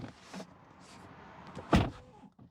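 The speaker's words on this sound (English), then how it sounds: "they even thought about the door closing being a big deal. Listen to this." Door of a 2024 Tesla Model 3 closing: one solid, fairly loud thunk near the end, after a quiet stretch of faint cabin rustle.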